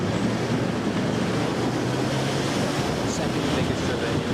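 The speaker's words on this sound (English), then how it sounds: "The River Adige." The River Adige in Italy rushes past in a steady, broad wash of flowing water, continuous and fairly close, with a low rumble underneath and no voices.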